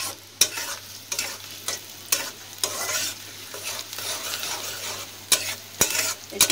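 Dried red chillies fry with onion and garlic in a pan, a continuous close sizzle broken by sharp spatula scrapes and stirring clatters, with no voices.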